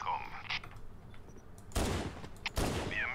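Warthog turret gunfire in Halo: Combat Evolved, heard as two loud, broadband bursts of rapid fire separated by a short gap, with quieter game sounds in between.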